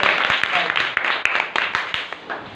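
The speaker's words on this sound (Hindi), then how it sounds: "बजाओ ताली" Students in a classroom clap in a burst of applause, quick uneven claps from a small group nearby, lasting a couple of seconds with some voices underneath.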